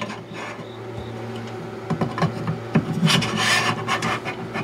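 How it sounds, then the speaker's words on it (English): A laser head for a Mecpow X4 Pro laser engraver slides down into its dovetail mount, heard as close rubbing and scraping with a few small clicks, growing louder toward the end. "And then this will just slip right down in there."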